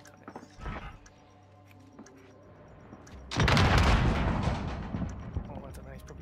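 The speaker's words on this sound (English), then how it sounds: "Cruise missile, go for launch." Cruise missile launch in Call of Duty: Modern Warfare, a sudden loud roaring blast partway through that swells and sustains as a heavy rushing rumble, preceded by quieter scattered thuds and clicks.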